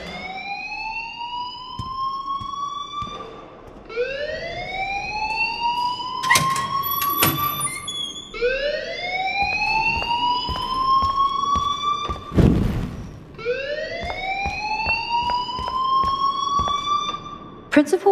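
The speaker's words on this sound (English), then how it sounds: "please turn off that alarm since that's your job" A rising, wailing alarm in the video game Life is Strange cycles repeatedly in long upward sweeps, loud and insistent, with a few bumps and clatters between cycles.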